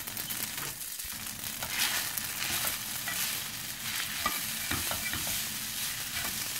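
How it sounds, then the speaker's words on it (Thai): Noodles for rad na are stir-fried in a pan with a busy, close sizzle. Scraping and tossing from stirring run continuously under the frying, and no voices are heard. "เดี๋ยวผัดเส้นให้เสร็จก่อน"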